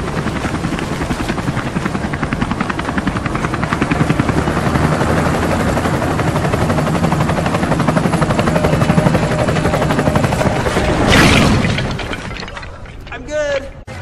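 A helicopter thunders close and loud with steady, rapid rotor chopping throughout, then the roar cuts away near the end, leaving a short spoken voice.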